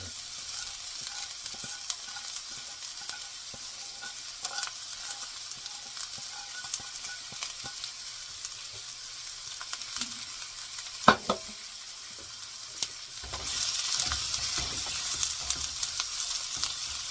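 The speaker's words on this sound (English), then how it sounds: "we'll pop in the carrots, onion, and celery all at one time." Carrots, onion and celery stir frying in oil for pork fried rice, a soft continuous sizzle with scattered spatula clicks and one sharper knock, swelling louder near the end, with no talking.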